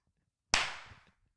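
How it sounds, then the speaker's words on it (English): A single sharp hand clap, loud and close, with a short decaying tail after a moment of quiet. "Do one clap for the camera."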